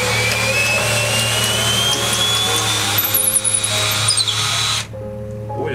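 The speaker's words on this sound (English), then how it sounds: "This is the quarter-inch socket extension in a drill." A cordless drill with a quarter-inch socket extension whirs continuously at high speed on a 1906 Ludwig piano being disassembled, with a rising whine, some rattling near the end, then the motor drops off to a lower hum.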